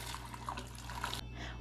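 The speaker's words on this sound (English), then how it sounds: "So first I will just pour this hot water in." Hot water pours into an Instant Pot inner pot, a steady close splash lasting about a second before cutting off, with a low appliance hum underneath.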